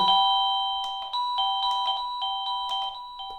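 An ORNO OR-DB-MT-156 wireless, battery-free electronic doorbell chime plays a bright, rapid sequence of ringing tones, clear and close, with no voices.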